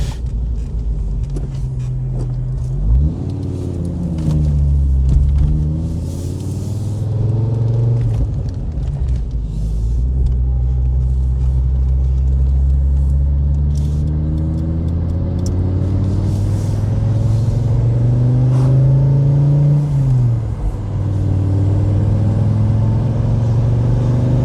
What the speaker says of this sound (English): first warm up the engine, because it's the second engine in this car